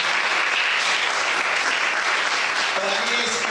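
A church congregation applauds during a sermon, a steady wash of clapping filling the room, with a voice rising under it near the end.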